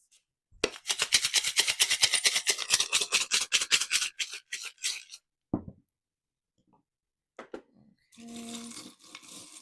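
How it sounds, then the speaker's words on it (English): Small metal charms rattle and clink rapidly in a charm bowl during a divination reading, a dense jingling burst that trails off, followed by a few isolated clinks and a brief spoken word. "so we have our charm bowl. As you know, I'm going to shake them up."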